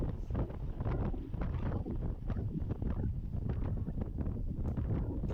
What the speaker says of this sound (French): Donc là on est vent de face, ça pique.